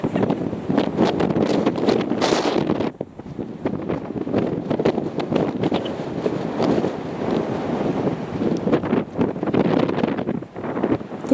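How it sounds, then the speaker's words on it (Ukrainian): Strong gusty wind on a small bridge buffets the microphone in loud, uneven bursts, with brief lulls between roaring rushes of air. "що такий сильний вітер, особливо ось тут, на цьому місточку"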